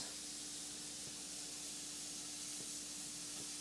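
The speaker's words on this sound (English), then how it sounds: "So you can see the steam coming out." Steam hisses steadily from the vent of a pressure canner while pot roast in jars is processed, a continuous, even, fairly soft rush with no talking.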